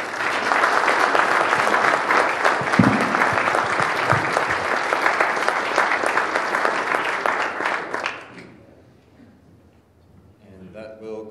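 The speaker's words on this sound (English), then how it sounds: "round of applause for the presenters" A conference audience at a planetarium association paper session applauds the presenters, loud sustained clapping for about eight seconds that then fades out, and a voice speaks briefly afterward.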